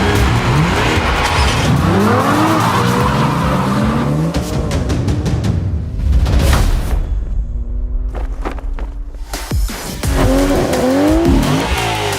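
BMW sedan with a 4,969 cc V8 making 472 horsepower, driven hard: loud close engine roar with rising revs, sharp gear changes and repeated tire squeal and skidding, dipping briefly before surging again.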